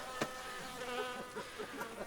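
Flies buzzing close around a person at an outdoor latrine with excrement, a steady droning hum with wavering pitch as they circle near and away, with no speech.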